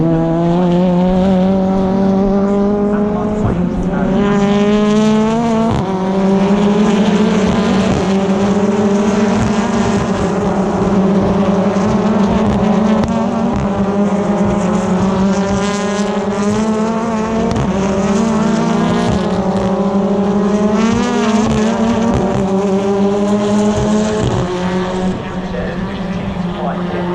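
BTCC touring cars racing at Snetterton, engines roaring loud and continuous with rising and falling revs through gear changes, under constant commentary.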